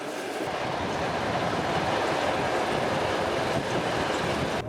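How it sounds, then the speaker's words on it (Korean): A Central Asian long-distance passenger train rolls along its rails with a steady, dense rumble and rattle from inside the carriage, unbroken and fairly loud throughout. "새로 갈아탄 열차도 그동안 탔던 시베리아 횡단 열차와 다르지 않습니다."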